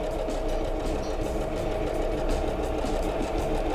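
A sewing machine stitches along the full length of a fabric seam at a studio, a steady continuous mechanical whir at moderate volume with no talking.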